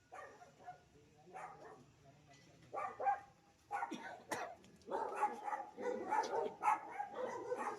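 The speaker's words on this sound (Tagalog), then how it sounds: "may sumagot aso" A dog barks repeatedly at a moderate distance, the barks growing more frequent and insistent, mixed with yips and some faint background voices.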